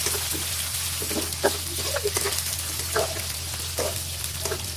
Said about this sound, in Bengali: ফ্রেঞ্চ ফ্রাই যেহেতু প্যাকেটে আনা ছিল, সেটাও ভাজা হইতেছে।